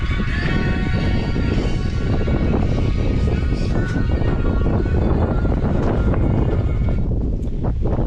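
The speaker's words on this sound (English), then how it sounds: "Wind just, of course, kicked up as soon as I turned you on." Loud, continuous wind buffeting a microphone outdoors, a dense low rumble and roar that covers the whole stretch without pause.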